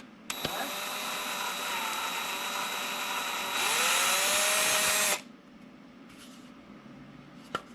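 A power drill with a small bit cuts a hole straight through the plastic lid of a Tippmann A5 paintball box magazine. The loud, close whine runs for about five seconds, rises in pitch near the end, then stops abruptly.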